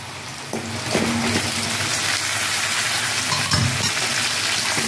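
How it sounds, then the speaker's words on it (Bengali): Whole onions with whole garlic and ginger frying in hot oil for a spicy chicken curry, giving a loud, continuous sizzle with occasional stirring knocks from a spatula. "পেঁয়াজ দিয়ে আমি একটু ভালো করে ভেজে নেব।"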